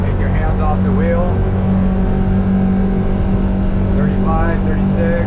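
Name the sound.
Sea Ranger boat running on Yamaha F150 outboard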